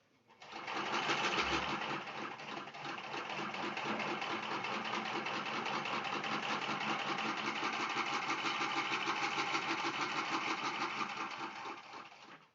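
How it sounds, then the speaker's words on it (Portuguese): A domestic sewing machine runs a straight stitch in a long unbroken burst, its rapid mechanical chatter starting up, holding steady and close for about ten seconds, then stopping. "Essa minha máquina, ela tem só de costura reta, então eu não vou fazer com ponto decorativo."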